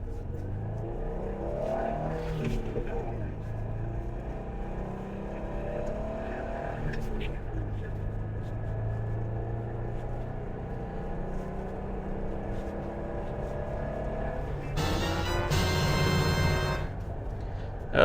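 A Jeep Wrangler JK with a 3.8L engine, manual gearbox and 35-inch tires accelerates from inside the cabin. A steady engine drone climbs through the gears, with a brief loud burst near the end and occasional talk over it.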